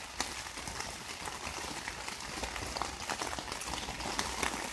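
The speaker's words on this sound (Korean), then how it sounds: "지금 계속 빗방울이 떨어집니다" Steady patter of rain drops tapping on a surface inside a tent during autumn camping, a soft continuous crackle with scattered sharper drips, fairly quiet and close.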